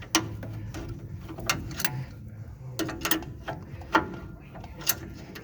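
Wrench ratcheting on a bolt at the front end of a Ford F100 pickup, a series of sharp metallic clicks and clunks in irregular bursts, close by with light background noise.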